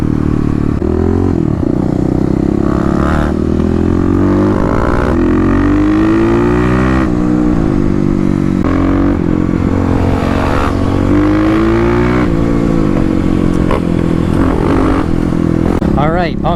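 Kawasaki KLX351 and KLX250 dirt bikes in a road drag race, engines roaring close and loud with rising revs and gear changes over a constant wind-buffeted rumble, while a rider talks throughout.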